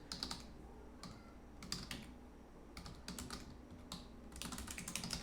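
Someone types on a computer keyboard in quick, close bursts of key clicks separated by short pauses, quiet overall, against a faint steady room hum and with no talking.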